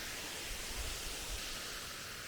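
Powerscourt Waterfall in Wicklow roaring as a steady, dense wash of falling water, continuous and even throughout with no voices.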